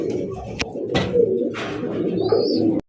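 Pigeons coo in soft, repeated low calls close by, with a few sharp clicks and a brief higher chirp mixed in, in a pigeon-selling setting.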